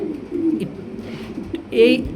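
Low, rolling pigeon coos close by at a pigeon farm, including a female, a few overlapping calls across the short stretch with a brief louder burst near the end.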